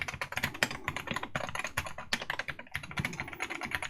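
Close, steady typing on a stock Wooting 60HE keyboard, a dense clatter of rapid keystrokes with a brief pause partway through and no voice.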